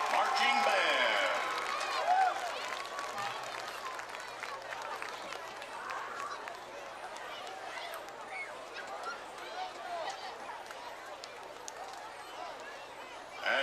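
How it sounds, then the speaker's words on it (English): Applause and crowd noise from football stadium stands for a high school marching band at halftime, a broad steady wash of clapping and cheering that is loudest at the start and holds on at a fairly even level. "Let's have another round of applause for the Gordan Central Blue Wave Marching Band"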